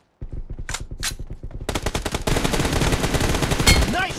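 Rapid automatic gunfire during a team deathmatch video game fills the clip, with loud bursts of tightly spaced shots that become denser and more continuous toward the end.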